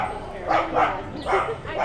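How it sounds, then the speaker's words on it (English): Dogs at a medieval faire bark in four short, fairly close bursts spaced about evenly across the moment, with crowd murmur underneath. "And this is pet friendly, as you can hear. There's a few dogs walking around as well."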